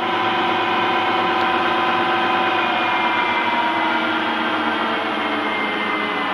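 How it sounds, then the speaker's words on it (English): A Harrison M250 lathe runs steadily at around 1500 RPM, a constant mechanical hum with a whining tone, close and continuous with no voices. "we can put it into run. So now we're at around the 1500 RPM range."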